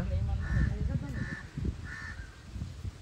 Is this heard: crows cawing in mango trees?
yes